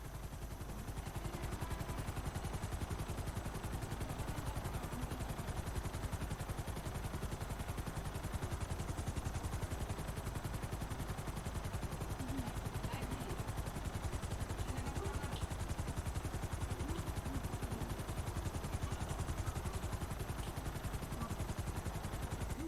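A helicopter in GTA V churns steadily with a loud, continuous rotor chop and engine drone, while faint rattling clatter runs underneath throughout.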